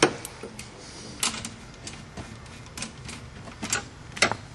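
Metallic clicks and light ratcheting taps, irregular and close, as a 16mm nut is fastened onto the ECU bracket of an Audi B6-B7 S4, with quieter handling noise between bursts.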